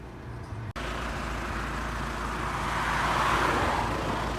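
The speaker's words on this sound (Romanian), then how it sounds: "A pornit mașina, dar" A Volkswagen Passat with a nearly dead battery starts up, then its engine runs with a loud, steady, rough rumble and faint rattling, close and without talk.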